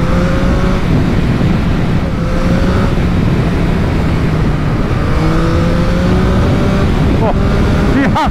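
Yamaha MT-09 triple-cylinder motorcycle engine under way on the road, a steady loud drone with rising revs and wind noise throughout, and the rider speaking over it.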